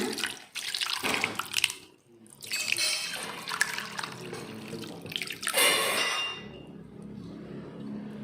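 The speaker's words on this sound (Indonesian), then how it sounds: "kemudian siapkan saringan. Kita akan tiriskan" Soaked squid drained through a strainer in a sink, water pouring and splashing in bursts with brief pauses, close and fairly loud, without talk.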